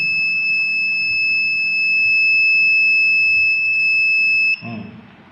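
A multimeter in continuity mode gives a steady, loud, high-pitched tone with its positive and negative probes pressed together, holding for several seconds before cutting off with a soft clatter.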